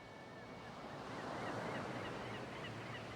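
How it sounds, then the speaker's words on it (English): Sea waves at high tide wash in as a soft, broad surging rush that swells slightly midway, distant and faint, with no voices. "The age-old sound of the sea."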